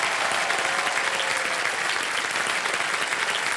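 Studio audience applauding on a TV quiz show, a dense, steady wash of clapping filling the hall at high volume throughout, with no break or pause.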